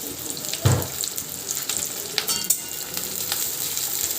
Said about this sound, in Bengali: এরপর পেঁয়াজ কুচিগুলো সর্ষের তেলে ভাজবো।